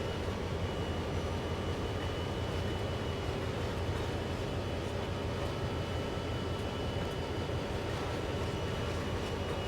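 An SD40-2 diesel locomotive in Train Sim World throttling up slightly on a short coal move, a steady low engine drone and rumble that holds constant throughout with no voices.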